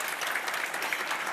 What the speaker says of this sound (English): You receive a lot of applause from the audience